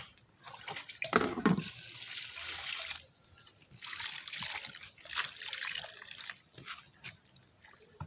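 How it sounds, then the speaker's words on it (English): Water is poured over beans in a bowl while making homemade bean flour in a village kitchen, a trickling, splashing flow that starts and stops in several uneven pours. "so I want to add water to this beans"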